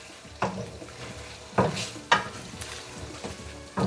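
Crushed black pepper gets stirred into a sizzling chicken karahi, a steady oil crackle broken by three or four sharp scraping strokes of a spoon against the pan, close and loud, with no talk.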